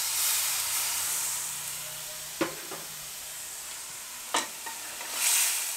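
About 150 ml of coconut milk hits frying pork in a pan for an earthstar mushroom curry, making a soft, steady hiss and sizzle broken by a couple of sharp utensil clinks, close by and fairly quiet.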